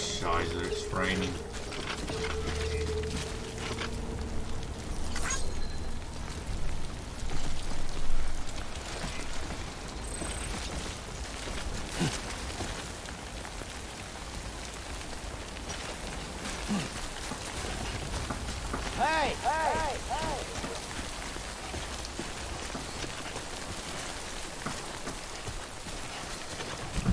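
Rain falling in the video game Death Stranding, a steady broadband hiss of drops that runs through the whole stretch, with someone talking over it and scattered game sounds mixed in.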